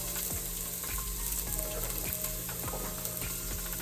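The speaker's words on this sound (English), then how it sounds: "grilling my onions and garlic in the pan first" Onions and garlic fry in a pan for a chunky vegetable soup, giving a steady close sizzle broken by regular scraping stirs about every half second, with no talk.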